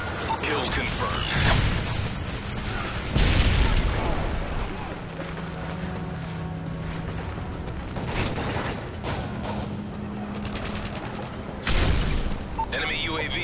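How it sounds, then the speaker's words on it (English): Predator missile strikes in Call of Duty: Modern Warfare 3, heavy booming blasts recurring through a busy stretch of gunfire and mechanical clatter, with in-game voice callouts mixed in. "Friendly Predator missile inbound."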